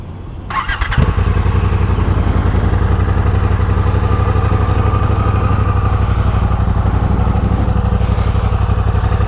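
A 2025 BMW S1000RR sport bike cranks with a brief starter whine, catches and fires, then settles into a loud, close, steady idle with a rapid mechanical rhythm that continues to the end.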